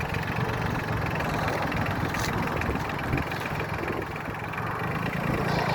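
A Solis 26 tractor running in low gear as it pulls away with the wheels turned, giving a steady, close diesel engine drone that holds even throughout, with no talking.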